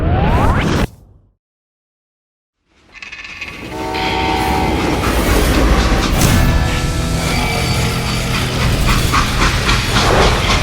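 A train in the Western shooter Call of Juarez Gunslinger: a loud, steady rumble of rolling freight cars with a horn-like tone. A brief burst at the start is followed by about two seconds of silence, then the rumble builds and holds.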